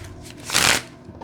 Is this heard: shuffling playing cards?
yes